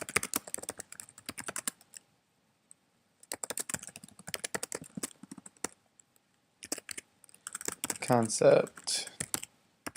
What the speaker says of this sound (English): So this is where I type my description of the assignment.